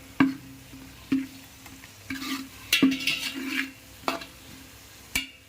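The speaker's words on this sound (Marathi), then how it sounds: "प्युरी छान तेल सुटेपर्यंत परतवून घेऊयात" Masala puree being sautéed in oil for a chicken biryani, with a spoon scraping and knocking against the pan in irregular strokes over a soft sizzle, close and fairly loud, no talking.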